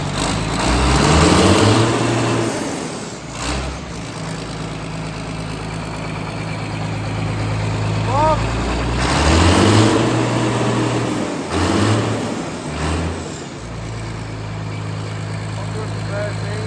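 A Fendt 7710 tractor idles close by with a steady low rumble and droning harmonics, its note swelling and falling a few times over the run; no one speaks.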